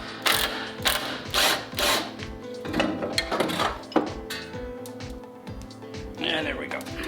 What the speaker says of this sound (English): Now last thing we got to do is take those 4 bolts off already.